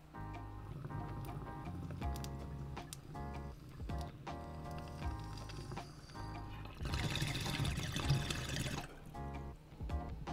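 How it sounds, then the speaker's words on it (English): A bong hit of Gypsy Soap cannabis is drawn through water, with low gurgling underneath before a louder, bubbling rush swells for a couple of seconds and then eases off. "This bong hit that I just took"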